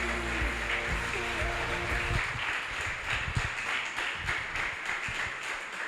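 A church congregation breaks into applause, steady dense clapping that builds after a sustained tone fades and carries on through the clip, with faint voices mixed in.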